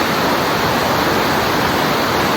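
Rushing river in a Costa Rican rainforest, a loud, steady roar of churning water filling the whole stretch with broadband hiss, close and constant, with no voices.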